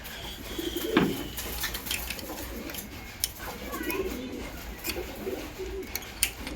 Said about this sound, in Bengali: খতরনাক Q1 টপ কোয়ালিটির পায়রা রয়েছে এটা।